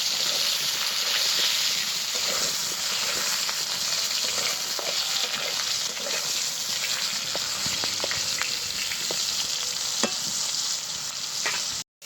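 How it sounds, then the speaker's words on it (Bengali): Raw mango pieces frying in a pan, a dense, loud, unbroken sizzle and hiss with scattered light pops and spoon scrapes, running steadily until a sudden cut at the end; no speech. "এবার আমটাকে আগে খুব ভালোভাবে ভেজে নেব।"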